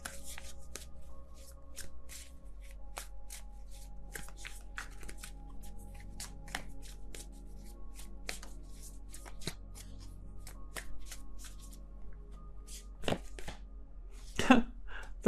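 A deck of tarot cards is shuffled in quick, soft riffling bursts throughout, close and fairly quiet over a low steady hum, ending in a sharper snap of cards.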